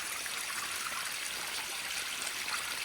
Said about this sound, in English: More stream walking.